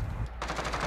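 A single sharp gunshot burst from Modern Warfare gameplay cracks loud and close, then leaves a brief ringing tail.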